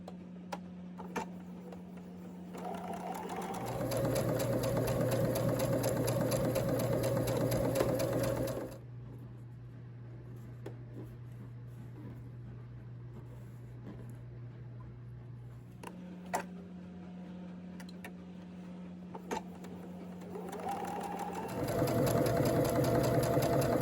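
Sewing machine stitching narrow quilt strips for a table topper, running in bursts of rapid steady stitching separated by quieter pauses, close and moderately loud.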